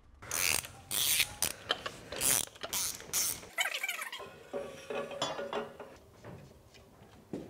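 A bolt is worked loose on a BMW motorcycle with a ratchet or wrench, giving bursts of sharp metallic clicking and ratcheting, then softer creaks and scrapes, close and fairly clear.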